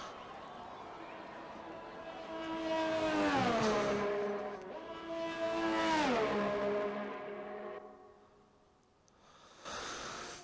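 Formula 1 race cars in a video game head out onto the Belgium circuit for qualifying, engines rising and falling in two long passing sweeps, moderately loud, fading near the end before a brief burst.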